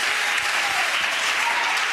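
A church congregation applauds at a service, steady dense clapping sustained evenly and fairly loud from start to finish with no voices above it.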